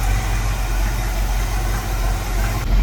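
A warmed-up 1967 coupe with an Edelbrock carburetor idles steadily, heard from the rear, a low, even rumble with a constant throb and no voices.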